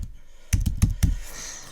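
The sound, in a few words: typing on a computer keyboard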